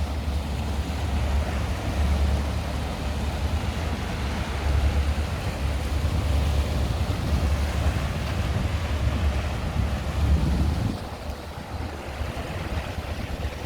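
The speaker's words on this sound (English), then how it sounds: "And there's the wake." Boat wake waves wash along the Rhine river in a continuous low rumbling churn with wind buffeting the microphone, steady and fairly loud for most of the stretch before easing slightly near the end.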